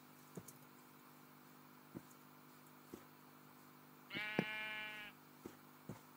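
Sheep bleating in Minecraft, one drawn-out wavering bleat near the middle, clear against quiet game ambience with soft footstep-like thumps before and after.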